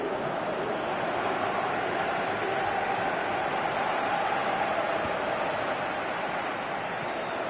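A football video game stadium crowd roars as a steady wall of noise, calling for a player to shoot.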